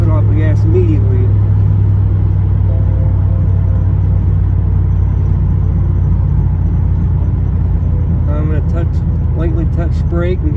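A V8 car rolls along with the driver's foot off the gas, a loud, steady low rumble of engine and road noise inside the cabin that continues throughout while someone talks over it.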